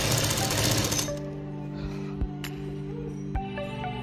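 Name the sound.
sewing machine stitching baby jacket fabric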